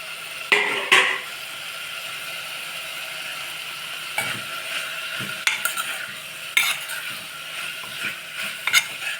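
Mint and a handful of coriander stirred in a pan for kodo millet biryani, with spoon scrapes and clinks over a soft, steady sizzle, close and fairly quiet.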